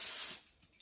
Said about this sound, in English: I'm going to spray my air fryer basket right here.